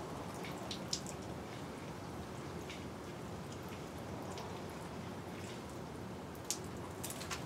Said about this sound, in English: I'm going to water these.